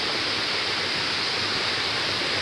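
Kuang Si waterfall near Luang Prabang, Laos, a loud, steady roar of falling water that rushes on without a break, close and alone, with no voices.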